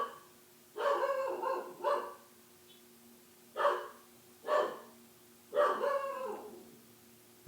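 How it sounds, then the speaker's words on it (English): A dog barks five times in uneven pairs and singles, moderately close, with a faint steady hum between barks. "that dog got issues."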